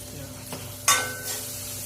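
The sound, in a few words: asafoetida powder added to hot pan, sizzling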